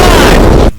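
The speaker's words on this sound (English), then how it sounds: "is it just me, or does this campaign contain more explosions than the average custom campaign?" A loud, booming explosion from a Left 4 Dead 2 custom campaign fills the moment with dense rumble, then cuts off abruptly into near silence.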